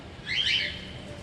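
A single short, high bird call rises out of quiet garden ambience, fairly faint and lasting under a second.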